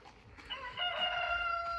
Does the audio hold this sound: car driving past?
no